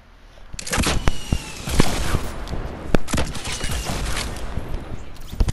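Suppressed sniper rifle fire in the Fortnite video game at Tilted Towers: several sharp, cracking shots spaced irregularly, with other gunfire crackling between them, fairly loud and with no talking.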